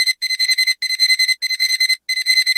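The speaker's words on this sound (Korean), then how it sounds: "80년대 알람 사운드라고 합니다." AI-generated 1980s-style digital alarm clock beeps loudly in rapid clustered bursts of four, repeating with short gaps of silence between groups, alone and close.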